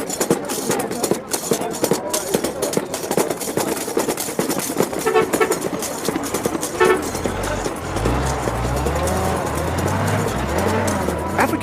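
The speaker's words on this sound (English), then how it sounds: "And you've got to love that horn." A colourful African desert bus sounds its horn in a few loud, sustained blasts as its engine rumbles underneath. The engine grows more prominent toward the end.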